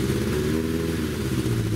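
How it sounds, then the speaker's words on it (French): A Suzuki GSX-R 1100 motorcycle engine, 136 hp, runs after starting on choke, a close, steady low rumbling idle with a mechanical clatter throughout and no voices. "je vais mettre en route"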